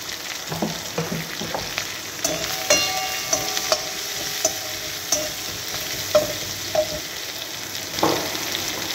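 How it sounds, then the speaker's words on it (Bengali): Chopped onions frying in a pan with peas for a home-style Bengali dish, a constant sizzle punctuated by clinks and scrapes of a spoon stirring against the pan. "পেঁয়াজটা একটু লাল লাল করে ভেজে নেব।"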